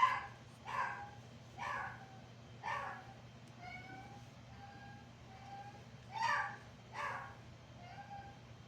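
A dog gives several short barks and yips in an uneven rhythm, fairly close, over a low steady hum with quiet gaps between.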